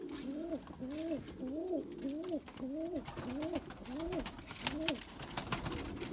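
Pigeons cooing in a coop, a steady series of about nine rising-and-falling coos in an even rhythm, close and moderately loud.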